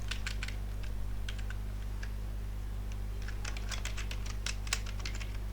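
Someone types a password on a computer keyboard in bursts of crisp key clicks, with short pauses between groups of presses, over a constant low electrical hum.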